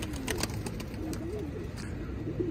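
Pigeons coo softly and continuously in a loft full of young birds, low rolling calls layered over steady background hiss with no voices.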